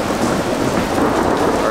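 Heavy rain pours in a dense, loud, unbroken roar during a thunderstorm in Europe, with a low rumbling undertone of thunder beneath the constant downpour.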